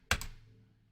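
Keyboard shortcut pressed on a computer running AutoCAD Civil 3D, a single close key thunk that fades quickly into a quiet room.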